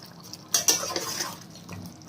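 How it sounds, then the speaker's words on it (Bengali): A utensil stirs boiling potatoes with asafoetida in a pot, giving a few sharp metallic clinks and scrapes against the pot over a soft bubbling, close by. "হালকা হাতে একটু নেড়ে দিচ্ছে যাতে হিংটা গোটা আলুতে মিক্স হয়ে যায়"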